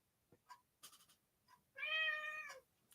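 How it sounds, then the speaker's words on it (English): A house cat shut in a room wanting to be let out gives one clear, drawn-out meow near the end, preceded by small taps and rustles in an otherwise quiet room. "I got a kitty that's in a sunbeam and she's not being happy because the door's not open and she can't get out of here"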